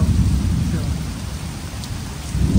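A pop-up thunderstorm during a fishing trip brings heavy, steady rain pounding close by, with deep rolling thunder rumbling underneath the whole time.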